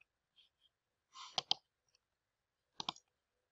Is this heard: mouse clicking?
yes